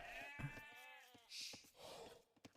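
Sheep bleat in an Age of Empires match, a wavering, nasal cry followed by shorter bleats and soft in-game clicks, fairly faint.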